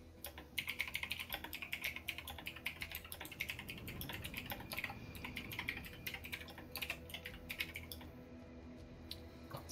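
Rapid clicking of keys on a computer keyboard with a broken L key, typed in quick irregular bursts during a Ghost Recon Wildlands gaming session, loud and close with game sound underneath.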